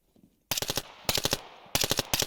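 Three loud bursts of rapid machine gun fire in the video game Zero Hour, each lasting about half a second, separated by short pauses.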